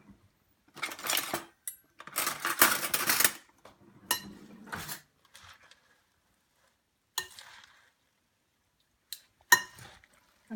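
Spinach pie filling being stirred with eggs in a bowl gives bursts of scraping and clinking utensil sounds, close and moderately loud, broken by pauses and a few sharp taps.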